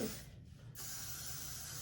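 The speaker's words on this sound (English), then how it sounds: "just gonna want to take some Got2b glue spray or some even spray, whatever kind of adhesive spray" Got2b Glue adhesive spray hissing from a can during a closure quick-weave hair install, one steady close spray lasting nearly two seconds with no talking.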